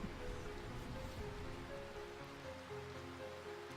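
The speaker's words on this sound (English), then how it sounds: "It's raining, if you can't tell by the sounds." Steady rain falls in the video game Final Fantasy IX, a soft continuous hiss of droplets heard faintly under quiet game music tones, with no speech.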